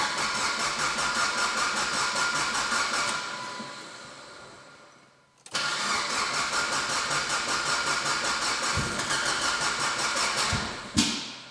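A car engine cranks repeatedly without catching, with a fast rhythmic churning from the starter. It pauses, then cranks again in a second long attempt, with a brief sharper burst near the end, loud and close with no talk.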